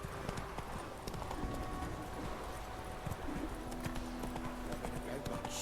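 Horse hooves clip-clopping at a steady rhythm in The Witcher 3, fairly quiet and continuous, with a voice talking over the hoofbeats.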